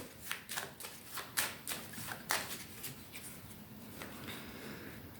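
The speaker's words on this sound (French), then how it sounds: "on va quand même recouvrir les cartes ici" Tarot cards are laid down and covered on a table, with soft, quiet slaps and papery shuffling in a loose, irregular series of taps, close and faint.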